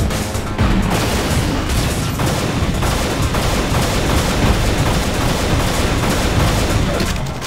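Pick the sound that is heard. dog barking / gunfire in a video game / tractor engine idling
gunfire in a video game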